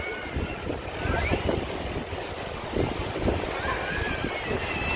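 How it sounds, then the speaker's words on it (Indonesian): Sea waves wash onto the clean summer shore of Sitges beach near Barcelona, Spain, with steady wind buffeting the microphone; a broad, continuous rushing surf sound holds throughout, swelling slightly in places. "air ini namanya Pantai Sijes Barcelona Spanyol ya"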